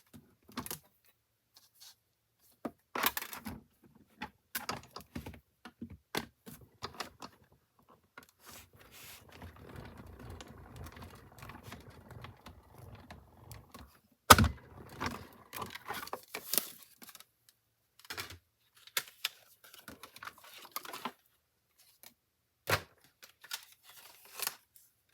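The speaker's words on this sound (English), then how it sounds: "I'll run that through my die cutting machine." Stylish circle dies pass through a die cutting machine on a papercraft desk, giving a soft, low, steady mechanical rumble mid-clip amid scattered crisp paper clicks and handling taps, fairly quiet and close, with no voice.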